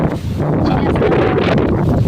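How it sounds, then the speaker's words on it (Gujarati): Wind blows across a farm field in a steady, close rush with microphone buffeting, continuous and fairly loud for a brief moment. "અને પવનનો અવાજ તો આવતો જ મિત્રો."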